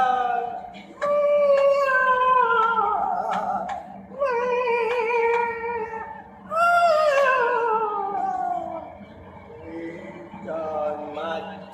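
A ghost cat ringtone yowls loudly in long, wailing caterwauls that slide up and down, repeating several times with short breaks between them.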